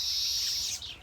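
Weaver birds chatter at their nests in a neem tree, a steady, dense high-pitched twittering that stays close and continuous, fading slightly near the end.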